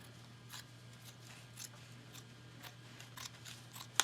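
Regular scissors snip through pressed cotton fabric in a steady series of short, crisp cuts, repeating about every half second over a low background hum.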